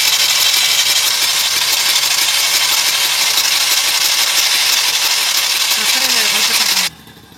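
A Mahindra Maxximo diesel engine with a starting problem cranks on its starter for about seven seconds. The churning is steady and loud and sits close by, then it stops abruptly and leaves a quiet tail.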